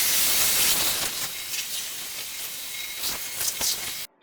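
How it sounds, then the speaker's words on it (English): A steady hiss of water spraying, close and continuous, with a few brief surges before it stops suddenly. "I'll spray it down."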